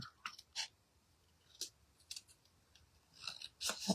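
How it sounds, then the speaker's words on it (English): Scissors snip paper in short, quiet bursts while fussy cutting a stamped image for a handmade card, several separate crisp cuts spaced irregularly, ending with a quicker cluster of snips. "Now I'm going to fussy cut this because they don't have a die for it."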